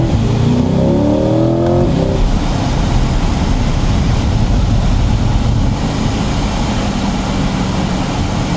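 A C8 Corvette Z51 accelerates hard in first gear, its engine roaring loud and close with a rising rev sweep early on, then a sustained heavy drone with road noise throughout.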